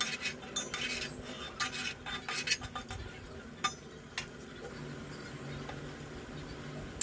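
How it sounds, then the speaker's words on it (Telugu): Spoon stirring a curry with fresh coriander in a cooking pan, with faint scraping and clinking against the metal in irregular strokes, quiet and close with a soft background hum. "బాగా కలుపుకుందామండి."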